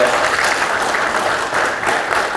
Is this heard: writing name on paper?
no